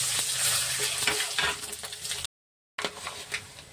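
Whole cumin, cinnamon, cloves, cardamom, dried chillies and bay leaf sizzling in hot oil for mutton curry, a loud continuous crackle with stirring scrapes, briefly cut to silence midway.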